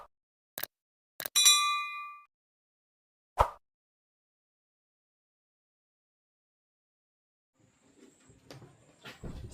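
Household items go into a cupboard: a few sharp knocks and a ringing metallic clink close by, a solid thump of the door, then quiet. Soft voices and shuffling follow toward the end.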